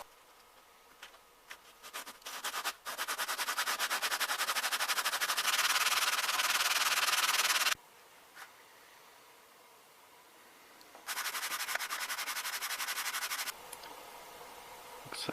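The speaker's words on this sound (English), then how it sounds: "I wrapped the sandpaper around the plane and used it as a profile sanding block" Sandpaper wrapped around a Stanley 100-1/2 plane rasps steadily as a curved plane iron profile is sanded, in two sustained bursts of loud hissing scrubbing with a quiet pause between and a few light taps at the start.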